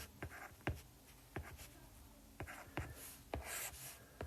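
Pen or marker writing out a simple interest math problem, a quiet series of short scratching strokes and taps in an irregular rhythm, close and faint, with no talking.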